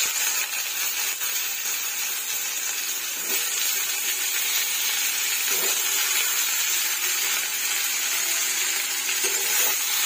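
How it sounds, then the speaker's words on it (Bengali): Bitter gourd fries in a pan with a steady, close sizzle and hiss that holds evenly throughout, with a few faint stirring scrapes and no talking. "এবার করলাটা ভেজে নেব।"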